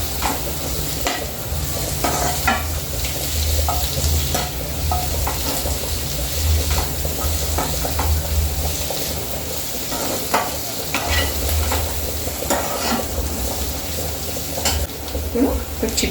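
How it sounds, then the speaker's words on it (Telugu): Green chillies and mint leaves frying in hot oil for a mint chutney, a steady sizzle with repeated stirring scrapes close by, with no talk heard. "లాస్ట్లో ఇవన్నీ వేసి ఇట్లా ఫ్రై చేసుకోవాలండి"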